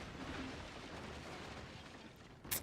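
Howitzer artillery fire in the Forts base-building strategy game, a faint, distant rumbling barrage that ends with one sharp, louder crack near the end.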